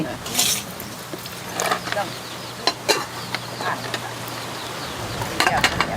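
Chicken curry broth being stirred in a pot outdoors: scattered scraping and clinking strokes of a utensil against the pot over a low simmering hiss, with a person talking in between.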